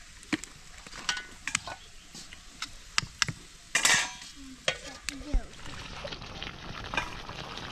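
Mango pickle cooking in a pan in a village kitchen, a soft bubbling sizzle broken by repeated sharp clicks and scrapes of a spoon stirring against the pan, with faint voices at moments.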